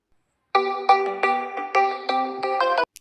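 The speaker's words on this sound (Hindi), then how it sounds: "तुम्हारे फोन पर कॉल आ रही है।" Phone ringtone for an incoming call plays a bright, clean electronic melody of short stepped notes, loud and close, for about two and a half seconds before cutting off.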